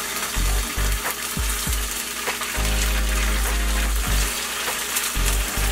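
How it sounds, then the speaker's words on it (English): Tofu fries in hot avocado oil in a pan, a loud close sizzle and crackle punctuated by low thumps and bumps as pieces are added and the pan shifts, with no talking. "once that oil is nice and hot, I'm gonna start putting in my tofu into the pan"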